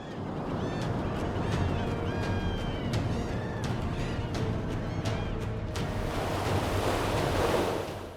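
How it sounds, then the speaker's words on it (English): Ocean waves surge and crash against a seawall in a continuous loud roar of surf, with wind rushing across the microphone and a heavier wash of water building toward the end. "That seawall looked safe right up until the next surge arrived."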